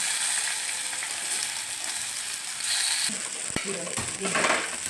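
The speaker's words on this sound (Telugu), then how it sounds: "ఈ కళాయిలో నేను టమాటాలు మగ్గించుకుంటున్నాను అండి" Tomato pieces sizzling and frying in hot oil in a kadai, a steady hissing crackle close up with a brief metallic stir or scrape near the end.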